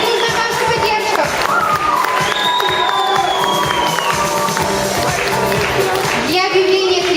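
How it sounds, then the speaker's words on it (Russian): An award ceremony audience claps and cheers steadily in a dense, continuous wash, with children's voices and shouts mixed in and a voice over the crowd. "Аплодируем."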